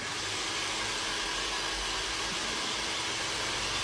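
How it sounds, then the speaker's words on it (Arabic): A handheld hair dryer blows a steady, loud broadband whoosh for the whole stretch, close and unbroken, used while drying and styling hair at home, with no talking over it. "شغل الاستشوار"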